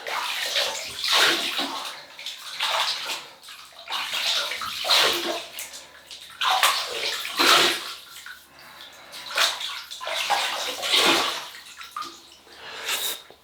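Water running and splashing as a face is rinsed off after a shave with a Laurel razor, a steady close wash with repeated surges and splashes throughout, no talking.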